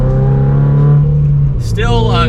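A Toyota GR86/BRZ with an AWE Track Edition exhaust and small muffler, loud and close, drones and revs with a deep rumbling tone, then a higher whining sweep rises near the end.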